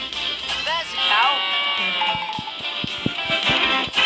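A cartoon cow call in a Paw Patrol video game, a short wavering bleat-like moo rising over game music and sound effects, with a voice speaking alongside.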